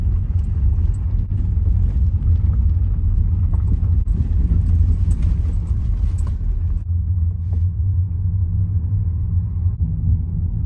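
A herd of cows walks past on a road near the Arches National Park entrance in Moab, Utah, giving a close, continuous rumble of shuffling hooves and movement with occasional knocks, no talking.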